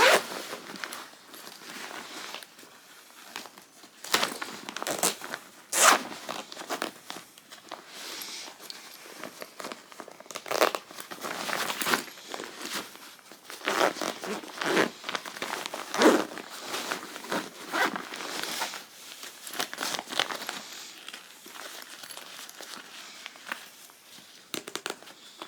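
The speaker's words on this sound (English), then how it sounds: "What is wrong with the zipper?" A suitcase zipper being packed for a trip to Ireland is tugged again and again, giving a long run of close, scratchy ripping pulls with uneven rhythm and short pauses, and no talking.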